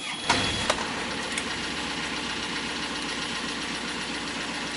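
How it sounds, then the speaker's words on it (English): A Brinks Belmore boat's inboard engine starts with a brief cranking burst, then settles into a steady, smooth idle hum that stays even and moderately loud throughout. "And obviously to start the engine, it's a quiet engine. I'll just give a demonstration."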